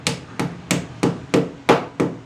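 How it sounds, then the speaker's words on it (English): A hammer taps a plastic wall plug holder into a drilled hole in a kitchen wall: seven evenly spaced, sharp knocks at a steady rhythm, close and moderately loud. "you just tap it into the hole that you just made into the wall with a hammer"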